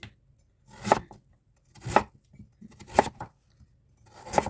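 A knife chops ingredients into bite-size pieces for a Korean-style spicy curry, four crisp separate cuts about a second apart, close and clear against a quiet background.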